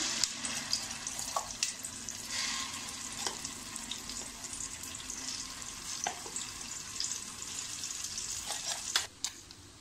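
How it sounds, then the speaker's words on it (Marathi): Gravy poured into a hot pan for matar paneer, a steady broadband sizzle and frying hiss that runs nearly ten seconds, with scattered clinks and stirring scrapes and a sharper knock near the end; no talking. "आता आपण ही ग्रेव्ही टाकूया"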